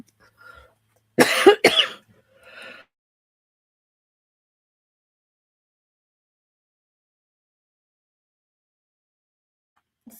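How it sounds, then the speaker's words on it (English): A single close cough bursts out in a quiet indoor room, followed by a short throat-clearing sound, then long silence. "Coughs are coughs."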